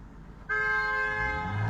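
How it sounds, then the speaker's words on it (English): A Dodge Journey honks while driving by, a sustained, steady horn blast that starts abruptly and holds loud and clear to the end, with faint road noise underneath. "They just keep driving by honking."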